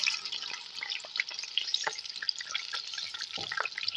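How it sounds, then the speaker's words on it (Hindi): Two medium onions, previously frozen, frying in hot oil in a pan, giving a steady bright crackling sizzle with scattered pops and light stirring scrapes, close and continuous. "उसी ऑयल में अब 2 मीडियम साइज़ प्याज जो कि फ्रीज़ किए हुए थे ऐड किए गए हैं।"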